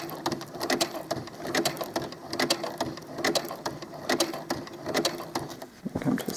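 Sewing machine stitching doll clothes after being rethreaded, a steady mechanical whirr with rapid repeated needle clicks running throughout at close range.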